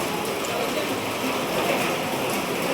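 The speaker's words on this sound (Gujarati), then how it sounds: "વરસાદ અત્યારે હાલમાં ચાલુ જ છે" Steady rain falls continuously in a sudden downpour, a loud, even hiss of drops on surfaces with no break, heard close by and without any voices.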